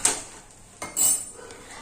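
A spoon scrapes and clinks against a pan while semolina and gram flour roast together, giving a few short, close metallic scrapes with quiet gaps between them.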